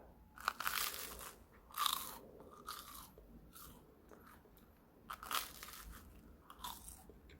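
Crisp, close crunches of someone biting and chewing crunchy toasted corn bread, a few sharp bites spaced apart with quieter chewing between.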